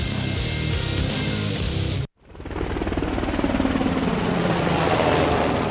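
Navy Seahawk helicopter thrums in steady flight, its rotor chop loud and close; a brief cut of other sound gives way after a sudden dip to a continuous beating roar that builds and stays strong.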